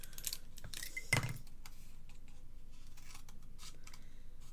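Scissors trimming a small overhanging edge off a paper piece, a single brief snip standing out over a faint, quiet room background, with no talking.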